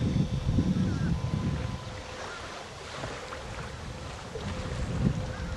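Tour boat cruising on Big Lake Eloise, a continuous low motor rumble mixed with wind buffeting the microphone and water wash, fairly close and steady, with no talking.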